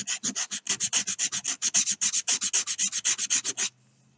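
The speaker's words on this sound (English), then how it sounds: "you just have to watch me sand this one." Sandpaper rubbed by hand over a hand-carved wooden fishing lure, about thirty quick, steady back-and-forth scratchy strokes up close, loud and evenly paced before stopping abruptly.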